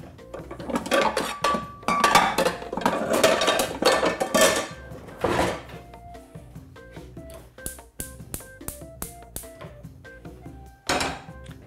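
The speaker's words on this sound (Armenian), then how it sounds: "տապակը հայտնվում է գազաջախին" Metal pots and pans clank and clatter on a kitchen counter and gas stove, a burst of loud rattling at first, then sparser single clinks and knocks, with one final sharp clang.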